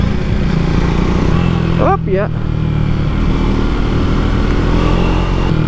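A 2024 Triumph Speed 400 motorcycle, a 400cc engine, runs steadily with a low, throbbing idle. A short spoken word briefly breaks in partway through.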